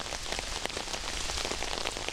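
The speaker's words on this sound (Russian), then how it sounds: "опять дождь накрывает" Steady rain pattering on a surface outdoors, a dense continuous hiss with scattered drop impacts, fairly close and even throughout, with no voices.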